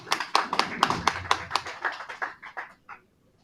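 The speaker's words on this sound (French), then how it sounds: "On l'applaudit aussi" Scattered audience clapping at a regional meeting in Occitanie, a modest burst of distinct hand claps that thins out and stops after about three seconds, moderately near and without talk.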